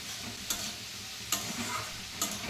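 Ash gourd frying with salt, turmeric and green chilli gives a steady close sizzle, with three sharp spatula scrapes spaced evenly through it.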